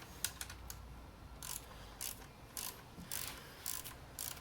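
A ratchet with a 10mm socket tightens valve cover nuts on a 2003 Pontiac Sunfire 2.2L Ecotec engine, giving quiet, close bursts of rapid clicking repeated in short strokes with brief pauses between them.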